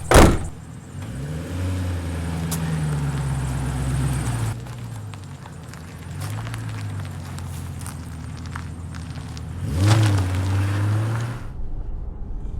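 A Chevrolet Caprice PPV bought at auction drives off, its engine humming close and steady through gear changes, then revving up strongly near the end before settling back.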